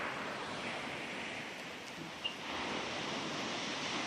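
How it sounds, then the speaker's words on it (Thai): Morning sea waves and wind on a sandy beach beside a seaside hotel make a continuous, even roar of surf and breeze, steady throughout with no voices. "มีหาดทราย มีคลื่นมีสายลมตอนนี้ตอนเช้านะคะ"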